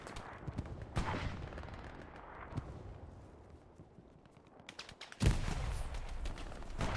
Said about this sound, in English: Terex shooting at him.